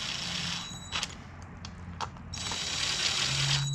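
A ratchet clicks in short bursts while bolts are tightened on a Ford Modular 5.4 engine during a cooling system rebuild, with a few sharper taps over steady background hum.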